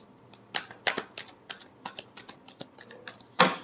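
Tarot cards being shuffled by hand, a series of soft close riffling flicks and taps in irregular rhythm ending with a sharper burst.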